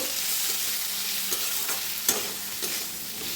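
Vegetables seasoned with salt and turmeric sizzle steadily in a pan while being stirred, with a constant frying hiss and occasional soft scrapes and clicks of the spoon against the pan.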